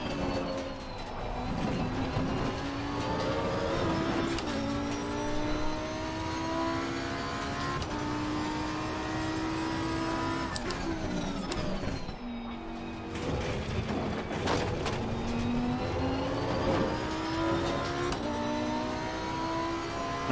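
A Ferrari's engine howls through twisty track sections in an Xbox Series X racing game, revving up and down in steady waves through gear changes, with a brief lift-off around twelve seconds, loud and continuous.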